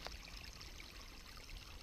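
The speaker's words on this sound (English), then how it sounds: "listen to the water running by" A stream runs steadily in a Missouri conservation area, giving a faint, continuous broadband rush and trickle with no voices over it.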